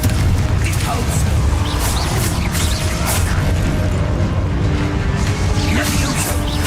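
Loud, dense barrage of Confringo, Depulso and Expulso spell effects in Hogwarts Legacy combat: repeated booms, crashes and swishing whooshes in quick succession that fill the whole stretch without a break.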